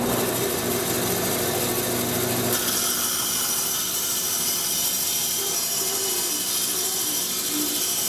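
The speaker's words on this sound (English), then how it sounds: "I'm going to run this through my bandsaw." A bandsaw rips through a 2-inch-thick mahogany board, a dense continuous hiss and whir of blade on hardwood, loud and close throughout, the tone shifting slightly partway as the cut progresses.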